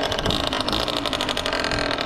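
A Yamaha Neos scooter's small engine runs steadily up close, a dense, continuous mechanical hum with a faint pulsing rhythm and no voices over it.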